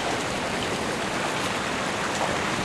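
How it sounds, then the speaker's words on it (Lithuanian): The Nemunėlis river near Pučiakalnė runs during the spring ice drift, giving a steady, dense rush of flowing water close by with no voices. "čia kaip eina vanduo"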